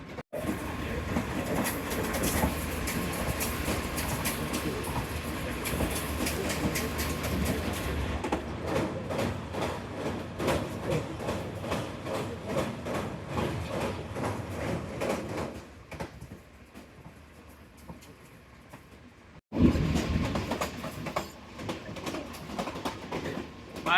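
Shah Hussain Express passenger train running through Shorkot Junction, a loud steady rumble of wheels on rails with rhythmic clacking, easing to a quieter stretch before a sudden louder burst near the end.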